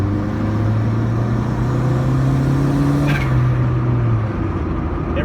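Inside a lowered Honda Civic on the move, a steady engine drone and road hum stay constant and fairly loud, with a slight rise and fall in engine pitch.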